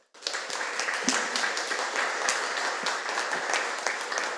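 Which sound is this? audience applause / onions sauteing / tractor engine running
audience applause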